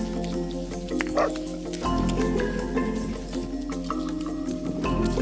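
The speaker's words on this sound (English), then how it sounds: "we've got some hopeful dogs hanging around as well" Dogs bark outdoors at an RV campsite with cows close by. The loud, intermittent barks sound near, over a low background rumble and some talk.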